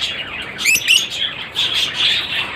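Caged birds chirp and tweet in a breeding cage holding an albino red-eyed passerine pair, with bright, fairly close calls in short bursts and no talking.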